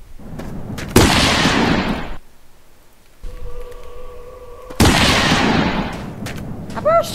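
In the video game The Long Drive, a shotgun fires loud booming blasts, two long bursts separated by a quieter stretch with a steady tone, then a few short chirps at the end.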